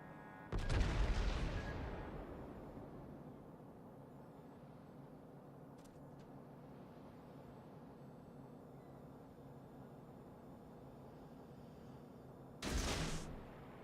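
Naval guns fire in World of Warships, a heavy boom at the start that fades into a long rumble, then another loud blast near the end, over a steady low hum.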